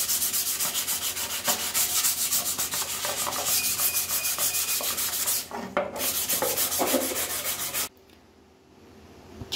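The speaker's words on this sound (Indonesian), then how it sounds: "Lanjut kepada amplas grid 100 ya." Hand sanding with 100-grit sandpaper during carbon-fibre skinning prep, close rhythmic rubbing strokes in quick back-and-forth succession that stop abruptly near the end, leaving near silence.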